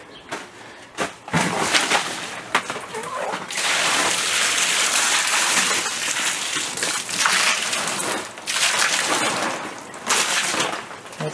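A full bucket of water thrown onto a bad spot fire in an urban area, giving loud splashing and sloshing bursts, with people talking through it.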